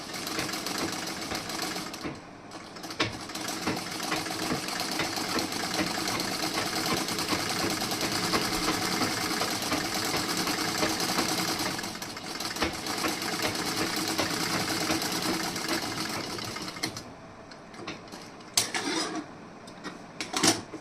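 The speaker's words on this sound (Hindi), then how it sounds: "अगर आप सिलाई मशीन को यहाँ से आप इसे उठा के उसके बाद यहाँ पे अगर स्टिचिंग इस तरीके से करेंगे" A sewing machine runs steadily for a long stretch stitching the back panel of a blouse, close and continuous, then stops and gives way to a few short handling clicks.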